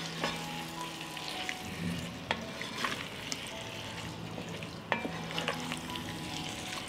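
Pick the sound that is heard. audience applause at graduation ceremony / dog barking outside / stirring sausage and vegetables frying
stirring sausage and vegetables frying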